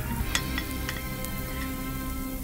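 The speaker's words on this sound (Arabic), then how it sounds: "هنبدأ نحط الزيت عشان نعصج اللحمة،" Meat frying in hot oil for an Egyptian minced-meat moussaka, with a continuous close sizzle and crackle plus a few sharp spatters, and no voices.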